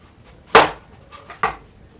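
Raw green bananas being slit thinly with a knife in a home kitchen, two sharp separate cutting strokes about a second apart, close and fairly loud with quiet between them.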